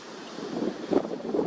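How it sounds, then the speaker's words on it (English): Wind gusting along a beach at Ulladulla, a steady low rumble of buffeting air on the microphone that swells louder toward the end, with no voices. "Getting a bit windy."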